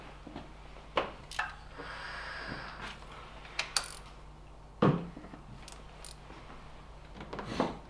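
A long ratchet tightens the oil cooler bolt on an Opel 1.4 EcoTec engine, giving sharp metallic clicks and clunks spaced irregularly over a quiet workshop background.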